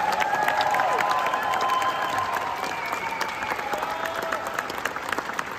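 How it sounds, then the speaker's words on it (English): Audience at an Americana 2023 horse event breaking into sustained, dense applause that holds steady throughout, with a few high whistle-like tones rising over the clapping. "give them a bigger applause than that"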